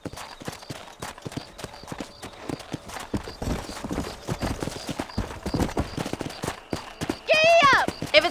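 Horses ridden at a steady pace in the video game Red Dead Redemption, rhythmic hoof clip-clops running throughout with someone talking over them and a brief horse whinny near the end.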